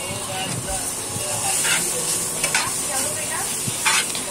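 Maggi noodles tossed with masala in a hot pan, a steady loud hiss and sizzle with soft scraping stir strokes and occasional sharper clicks of the spoon against the pan, heard up close.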